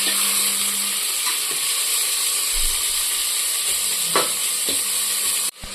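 Chopped onions frying in a pan toward golden brown give a steady, close hiss and sizzle, with a few faint stirring scrapes and taps, before cutting off abruptly near the end.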